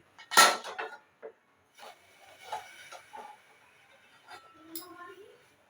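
A cooking pot is set on a gas stove ready for tempering dal: one loud metallic clunk up close, followed by scattered lighter clinks and soft scraping.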